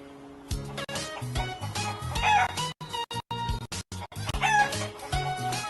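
A rooster crows and hens cluck in a lively, close farmyard scene, with several overlapping crow calls and cackles layered over musical backing throughout.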